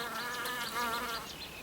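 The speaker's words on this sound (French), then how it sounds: "quelques petites abeilles mellifères, qu'on appelle parfois abeilles domestiques, bourdonnent en se délectant de pollen et de nectar" Honey bees buzz close by while feeding on pollen and nectar at flowers, a steady droning hum with wavering pitch that rises and dips as the insects move, no voices.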